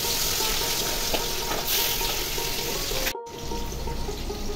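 Hilsa fish dropped into hot oil in a home kitchen pan, a loud, continuous hissing sizzle that stays dense throughout and cuts out abruptly near the end before resuming.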